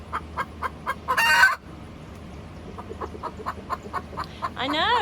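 A rooster sitting in a nest box clucks steadily in a close, regular rhythm, breaks into a brief loud squawk, and ends on a rising, crow-like call.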